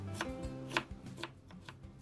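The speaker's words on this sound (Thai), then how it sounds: "มันฝรั่งปอกเปลือกล้างให้สะอาดแล้วนำมาหั่นเป็นเต๋าเล็กค่ะ" A knife quickly dices peeled potatoes into small cubes on a cutting board, a run of sharp, uneven taps close by, with no talking.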